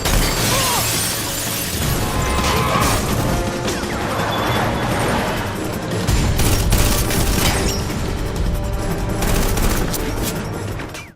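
Gunfire in a film action scene as a man shoots at a money briefcase on a street, dense rapid bursts of shots with shattering crashes, loud and continuous throughout.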